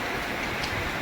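A short stretch of heavy thunderstorm rain at night in Nellore, first rain of summer, an even, close hiss with faint patter of drops hitting surfaces and no voices.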